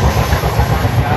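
A train gathers speed beside a paddy field: a loud, close rumble with a regular low thudding rhythm from the wheels, briefly captured.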